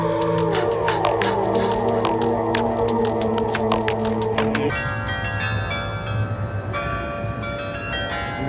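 Church bells near a hotel in the Netherlands ring out in overlapping, resonant strikes with long sustained tones, then shift to a sparser, ringing toll as the chime continues, loud and close with no voices.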